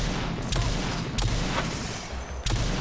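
Revolver shots ring out in Rage 2, a few sharp cracks spaced about a second apart over a busy, rumbling game background.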